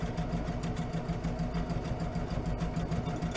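A sewing machine back stitches a tote bag with a steady, close, rhythmic whirring hum that runs unbroken throughout.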